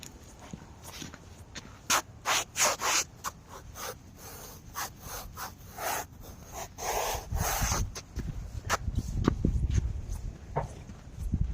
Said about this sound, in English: The sand's interesting to walk on. It's frozen.